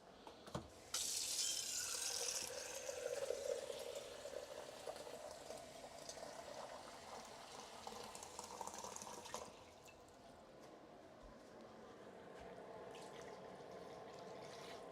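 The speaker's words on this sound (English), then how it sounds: "I'm gonna add a little more water to this." Water pours from a tap into a cooking pot on a stove, a loud steady rushing splash for several seconds that cuts off and leaves a softer bubbling simmer, with no voices.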